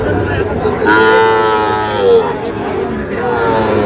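A cow moos loudly and at length nearby at a cattle market, a drawn-out low call, over a steady murmur of people talking in the background.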